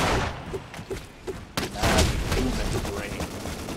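Bursts of gunfire in the block-building shooter Ace of Spades, a handful of separate sharp shots in the first second and a half, then a louder rattling volley with voices talking over it.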